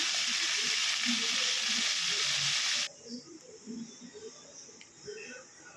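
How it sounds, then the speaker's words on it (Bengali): Pomfret fish pieces hit hot oil in a home kitchen pan, giving a loud, bright, continuous sizzle that cuts off abruptly partway through, leaving only faint background clatter and low murmuring. "তেলটা ভালো মতো গরম হয়ে গেলে তবে আমি মাছগুলোকে এক এক করে ছেড়ে দিচ্ছি"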